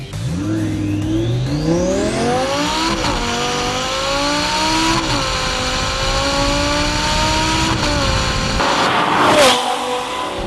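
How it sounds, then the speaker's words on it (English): Hennessey twin-turbo Lamborghini Gallardo accelerating hard, a loud close engine roar climbing through the revs with gear shifts, steady and dominant throughout. "let me show you what it's like right here to do a pull."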